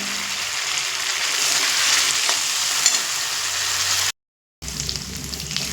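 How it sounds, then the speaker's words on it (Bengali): Parboiled potatoes fry with spices in a pan over a medium flame, a loud, dense, continuous sizzle with stirring scrapes, cut by a half-second gap of silence before resuming. "দেখুন মশলার সঙ্গেও আমি আলু খুব সুন্দর করে কষিয়ে নিয়েছি"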